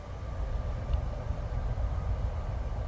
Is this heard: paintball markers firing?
no